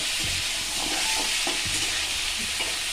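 Fried prawns are stirred into sizzling potato and pointed gourd curry in a pan, a loud, constant hiss of frying broken by a few low spoon knocks and scrapes.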